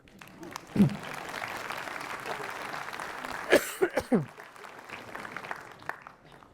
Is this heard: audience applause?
yes